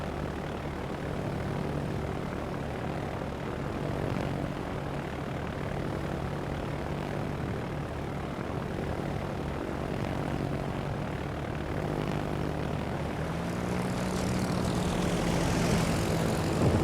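A torpedo bomber's propeller engine drones steadily in World of Warships, flying from a German aircraft carrier. The roar stays loud and constant and swells slightly toward the end.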